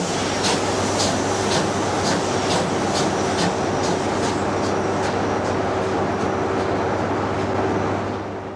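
A train runs steadily and close by, with rhythmic wheel clatter over rail joints repeating through the first half over a constant low rumble and hum, fading slightly at the end.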